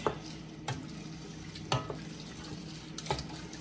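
Chili beans with black pepper and spices stirred in a big pot, quiet low simmering background with a few distinct scraping and knocking stir strokes spaced about a second apart, no talking.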